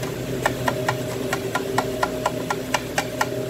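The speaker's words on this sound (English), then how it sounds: "That sound is a hollow cup." Light repeated tapping on an empty hollow cup that holds a thermometer sensing bulb in a beer walk-in cooler, about a dozen quick, evenly spaced ticks over a steady refrigeration hum.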